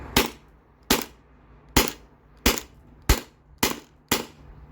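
A modified Sabre 68 CO2-powered paintball marker fires seven sharp, evenly spaced shots in a steady rhythm, each a loud crisp pop with a short decay, alone with no talk.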